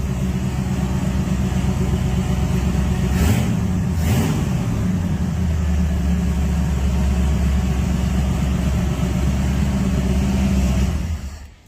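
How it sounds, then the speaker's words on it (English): A 1932 Roadster hot rod engine runs loud and close in a steady, dense drone, with a brief rise in revs around three to four seconds before settling, then cutting off at the very end. "It's a 1932 Roadster pre-65, which means time period correct."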